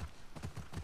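Horse hooves clip-clop in a steady rhythm at low volume in The Last of Us Part II, a run of soft, even thuds with no voices over them.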